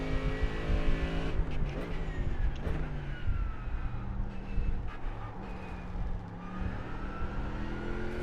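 Race car engine in a GT3 car on the Daytona road course in a racing video game, a steady drone with gear shifts and throttle modulation, revving up and easing off continuously, no talk.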